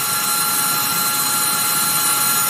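Dremel rotary tool with a 1/8-inch shank bit carving wood, a continuous high-pitched whine held steady and close without pause.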